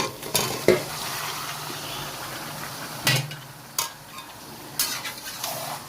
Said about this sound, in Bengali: এবার আমি মাংসগুলো দিয়ে দেবো।